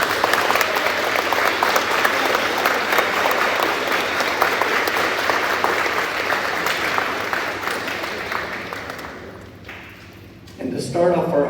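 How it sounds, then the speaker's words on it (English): Students give their teachers a big round of applause at a middle school eighth grade honors day, a dense, sustained clapping that fills the room for about nine seconds before fading, followed by a voice speaking. "giving your teachers a big round of applause"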